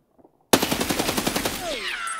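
Machine-gun fire in a first-person shooter video game, a sudden loud burst of rapid evenly spaced shots after a brief quiet moment, followed by a descending whistling tone as the firing continues.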